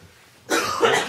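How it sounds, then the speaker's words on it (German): A woman gives a single rough, close cough that is sudden and loud after a quiet moment, with no speech over it. "Kann ich schon sagen, warum die jetzt so hustet?"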